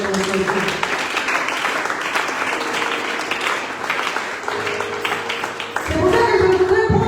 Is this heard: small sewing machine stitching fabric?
no